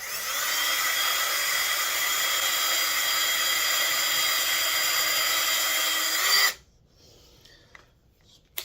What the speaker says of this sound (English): So let's drill the holes.